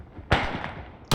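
Gunfire in the video game ArmA 3 aimed at a parachuting soldier: two sharp, loud gunshot bursts about a second apart, the first trailing off in a long rumbling echo.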